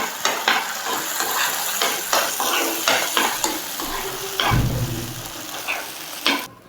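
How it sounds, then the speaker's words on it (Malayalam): An onion and ground drumstick paste is stirred in a frying pan, with steady sizzling and repeated scraping strokes of a spoon against the pan, close up and without speech. "ഇനി ഇതെല്ലാം കൂടി നന്നായിട്ടൊന്ന് മിക്സ് ആക്കാം."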